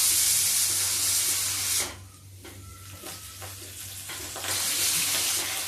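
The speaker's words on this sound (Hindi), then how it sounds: "अब इसमें देखिए, मेथी की पत्तियां डालते हैं।" Fenugreek leaves drop into hot oil in a kadai, a loud hiss that dips briefly and then swells back into a steady, bright sizzle.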